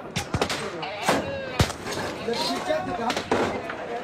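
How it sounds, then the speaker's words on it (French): Bullets strike and burst through the mortar of a wall on a front line. Several sharp, loud cracks and impacts land at irregular intervals, with a voice speaking between them. "Le mortier des murs éclate quand les balles le transpercent."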